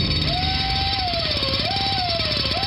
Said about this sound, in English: Does your trip to the dentist office sound like this?